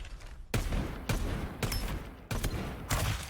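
Bursts of gunfire in the battle royale game Farlight 84, several loud rapid volleys separated by brief pauses, close and sharp with no talking over them.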